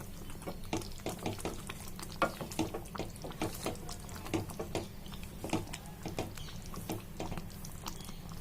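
Drumstick masala curry with milk, garam masala and coriander simmers in a pan, giving a continuous soft bubbling and sizzling patter with scattered small pops, close up and without talk.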